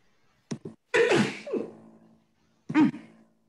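A person sneezes close by in a quiet room: a short catch of breath, then a sharp explosive burst, and a brief follow-up burst a moment later, with silence in between.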